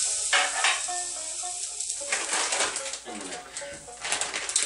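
Butter-dabbed tortilla frying in a hot pan gives a steady crackling sizzle close by, with a voice speaking over it and occasional louder spatters.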